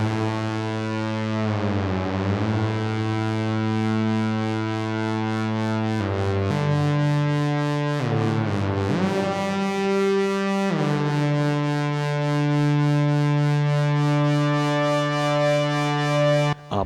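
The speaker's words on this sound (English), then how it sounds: "And the Realistic ConcertMate MG1." A Realistic ConcertMate MG1 synthesizer plays loud, sustained, buzzy electronic tones with heavy effects, pitch sweeps and glides around two, nine and eleven seconds, continuous and alone with no talking.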